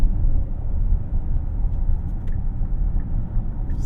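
A 2024 Hyundai Palisade Calligraphy AWD drives in sport mode, heard from inside the cabin as a steady low engine drone and road rumble, loud and continuous, with no voices.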